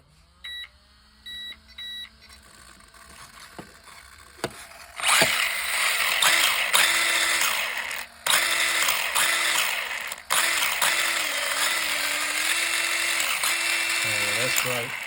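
A Tamiya TT-02 RC car drivetrain, fitted with a drift suspension arm conversion, whirs into motion after a few beeps, a continuous mechanical buzz with shifting pitch, close and fairly loud.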